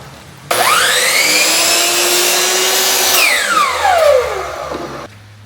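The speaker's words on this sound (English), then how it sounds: "So I'm just going to cut this to 30 inches" A power saw spins up with a sharp whine and cuts through a wooden board for about four seconds, its pitch sagging under load and then winding down once the cut is done, loud and close.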